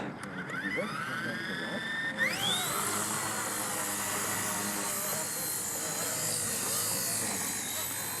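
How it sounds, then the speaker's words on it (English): A small RC helicopter whines loudly, its motor pitch climbing sharply as it spins up, then holding a steady high buzz. "how it's easy to fly this RC helicopter"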